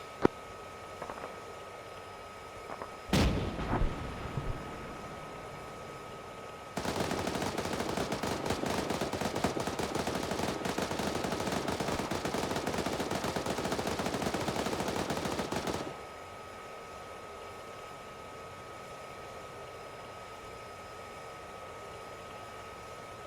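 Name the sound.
gunfire from an M1A1 tank platoon in a video game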